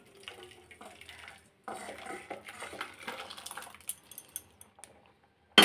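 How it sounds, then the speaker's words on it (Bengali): Boiled dal with squash poured from a pot into a bowl, giving wet sloshing and splashing with metallic scrapes and clinks that grow busier, then stop, ending on a loud clatter. "দেখুন আমি এখন গামলায় ঢেলে নেব।"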